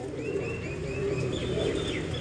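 A female pigeon, one of a fighting pair kept by a Delhi pigeon fancier, coos softly and repeatedly, close by, over a steady murmur of background noise.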